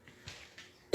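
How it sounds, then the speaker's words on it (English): A few soft throat sounds lead into one sharp, loud flu cough at the very end, close to the listener. "I apologize for the coughing and the nasal sounding"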